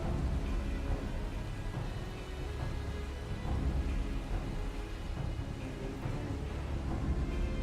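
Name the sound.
rain and thunder in Final Fantasy XIV video game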